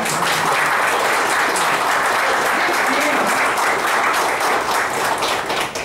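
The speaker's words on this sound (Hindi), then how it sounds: "जोर से तालियां बजाओ." A large audience applauds loudly and continuously, a dense wash of clapping that holds steady for several seconds.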